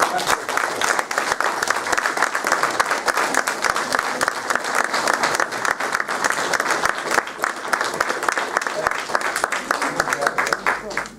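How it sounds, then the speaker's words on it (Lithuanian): Generous, sustained applause from a community gathering honouring a local supporter at an awards event in Tverai, a dense, even crowd of clapping hands running unbroken throughout. "šiandien mes tą progą tau tarėm nuoširdų ačiū ir gausiais aplodismentais"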